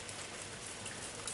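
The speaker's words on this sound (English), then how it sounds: "watching the summer rain pour like liquid silver across the fields beyond town" Steady summer rain pours across open fields in a soft, even hiss that stays faint and continuous throughout, with no voices.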